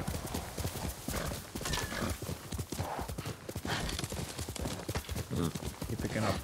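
Rapid horse hoofbeats in Ghost of Tsushima clop steadily at a gallop, close and continuous, with a brief horse whinny in the mix.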